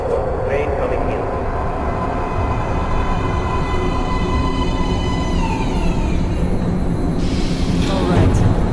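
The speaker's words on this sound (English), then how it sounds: "Train coming in." A subway train pulls into an underground metro platform in the video game Metro Last Light, its steady rumble and rising metallic squeal continuous throughout, with a brief screech near the end.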